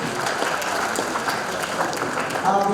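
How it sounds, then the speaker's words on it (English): Audience applause at a panel discussion during an annual lecture, a steady wash of many hands clapping that carries on for several seconds and swells slightly near the end. "Please a round of applause for yourselves."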